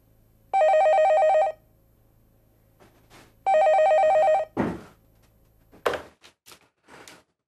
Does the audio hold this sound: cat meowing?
no